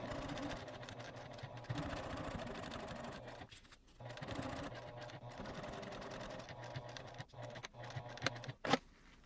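A home sewing machine top stitches a fabric hip bag at a 3mm stitch length, running in steady rhythmic bursts with short pauses, close and fairly quiet, with no talking.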